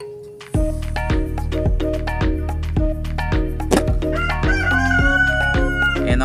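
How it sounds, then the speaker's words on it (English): A rooster crows repeatedly nearby, loud and harmonic, with clucking fowl mixed in and a rhythmic low thumping running underneath throughout. "our family rooster, singing"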